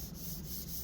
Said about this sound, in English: it's just a case of sanding back now.